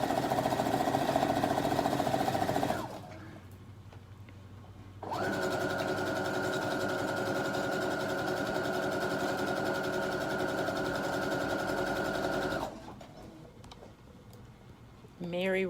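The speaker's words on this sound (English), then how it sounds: "I'm gonna fold it in half, and then I'm just gonna sew along this edge here." A sewing machine stitches along the folded edge of a fabric strip for a hair scrunchie, a fast, steady mechanical whir in two bursts separated by short pauses, close and loud.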